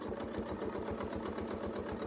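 A sewing machine runs steadily while stitching a quilt along a line, a fast even rhythmic motor hum with regular needle pulses, close and continuous with no talking.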